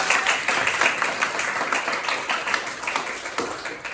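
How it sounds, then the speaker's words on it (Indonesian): A classroom group claps for a student in a steady, fairly close round of applause that carries on at an even level for the whole few seconds. "tepuk tangan untuk Dio"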